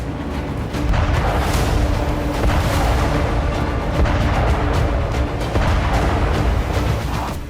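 Heavy booming blasts and artillery fire in the Russia-Ukraine war zone near Zaporizhzhia, a dense, continuous roar of loud explosions with no clear gaps between them.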